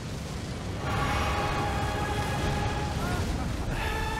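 Roaring, sustained fire blast from a dragon enemy in Elden Ring, a dense rumbling rush that swells in abruptly and holds steady, with a brief flare near the end.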